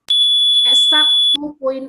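A smoke-alarm style electronic alarm beeps in one steady, loud high-pitched tone for over a second, then cuts off as a person starts talking.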